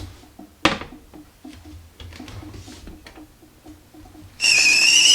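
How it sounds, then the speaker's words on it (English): After a few quiet kitchen clinks and one sharp knock, a stovetop tea kettle bursts into a loud, steady, shrill whistle close by. "I love a whistling tea kettle"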